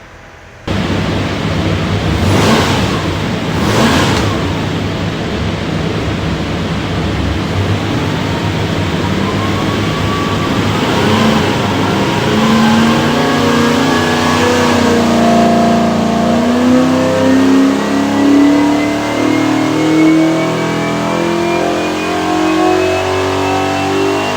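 A 383 stroker V8 in a 1969 Corvette runs on a dyno, idling loudly, then revving up in a long smooth pull with rising engine pitch, close and dominant, with no talking.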